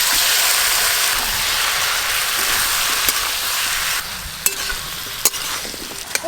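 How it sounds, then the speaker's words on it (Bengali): Potatoes and Malabar spinach hiss and sizzle in oily masala in a pan, a steady loud frying wash broken by a few sharp clicks and knocks of stirring, close and without talk. "ভেজে রাখা আলু আর পুঁই শাক দিয়ে দেব।"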